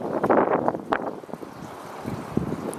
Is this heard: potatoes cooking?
no